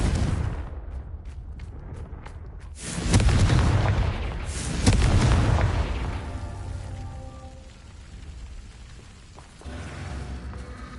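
A Confringo fire spell cast in Hogwarts Legacy bursts into a loud booming explosion, with a second heavy blast following shortly after, then a rumbling, crackling tail fading under low game ambience.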